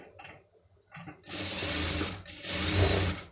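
Sewing machine stitching a designer sleeve on fabric, running in two steady bursts of close, loud mechanical whirring with a short pause between them.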